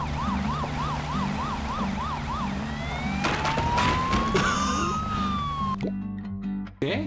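A cartoonish ambulance siren from the bridge-building game Poly Bridge wails in a steady two-tone pattern, then rises and falls in long sweeps over a low, continuous game hum, ending with a few sharp knocks.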